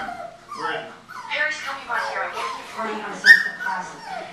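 Dogs whimpering and yipping up close in a series of short, high, squeaky whines and yelps, with a louder yip near the end and no talk.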